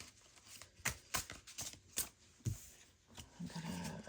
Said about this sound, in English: let's go ahead and do some shuffling.